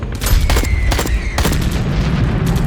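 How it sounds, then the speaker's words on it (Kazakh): Bursts of gunfire in a battle scene from a film set in the Afghan war, several loud sharp cracks in quick clusters followed by a rumbling tail, close and intense. "Түнү менен ок атышуу токтобой."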